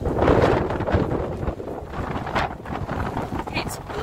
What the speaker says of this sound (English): Can you hear the wind in the trees?